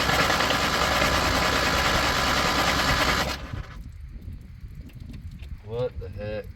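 A 1980 Chevy Luv pickup engine, abandoned since 1998, cranks over loudly and continuously for about three seconds, then cuts off, leaving quieter background noise as people talk.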